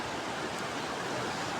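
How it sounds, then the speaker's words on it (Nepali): A monsoon-swollen river rushing in rural Nepal at the start of the rainy season, a steady faint broadband roar with no talk. "खोला आइसकेछ यहाँ हेर न भान्जा हेर"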